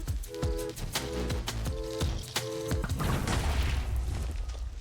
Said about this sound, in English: Come on, give me that nice explosion.